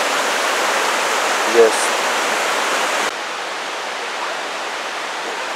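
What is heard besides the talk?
waterfall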